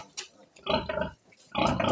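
A mother pig and her newborn piglets on a farm, giving short grunting and squealing bursts in two loud clusters separated by a brief quiet gap, close by and with no talk over them.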